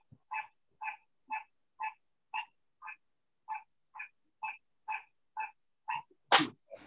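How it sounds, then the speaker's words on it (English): A loud frog croaks in a series of about a dozen evenly spaced, hoarse two-toned calls, close and clear against a quiet background, ending with a brief harsher noise. "Loudest frog I've ever heard."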